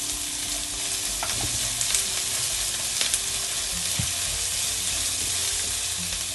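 Onions frying in a pan with a half teaspoon of salt, a steady close sizzle with occasional stirring clinks and scrapes throughout, no talking.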